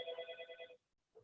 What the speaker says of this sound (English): we're just going to have to let it ring because I can't remember how to mute it